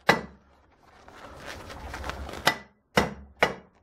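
Hammer blows on a fireplace poker point being forged, heard as several sharp, loud metallic strikes spaced about half a second apart near the end, after a softer stretch of shuffling and scraping.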